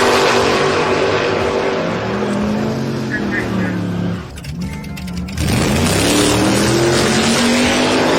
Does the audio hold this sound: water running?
no